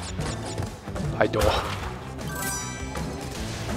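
Wooden crates smash in the video game Crash Bandicoot, a few quick cracking thwacks among game music and effects while someone talks over them.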